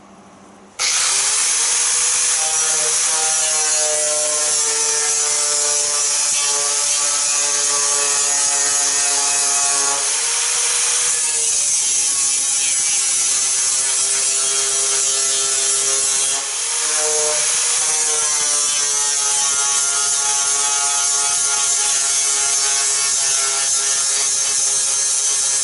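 An angle grinder cleans up a fresh weld on an Austin Mini floor pan, a loud, steady, high metallic whine running for about 25 seconds, with the pitch shifting and two brief dips between passes.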